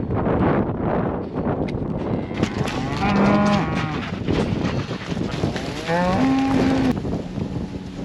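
Cattle moo loudly and close by in a barn or farmyard, with two long, rising calls standing out over a steady wash of wind noise.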